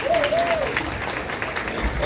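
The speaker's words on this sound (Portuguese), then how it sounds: "Mais palmas aí para ela." Audience applause at a book fair launch breakfast for the 11th Bienal Internacional do Livro de Alagoas, steady clapping from a crowd with a voice speaking over it.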